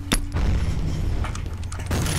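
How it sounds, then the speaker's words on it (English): A sharp grenade boom bursts out in F.E.A.R., followed by a low rumbling tail and another thump near the end. "Look out, grenade!"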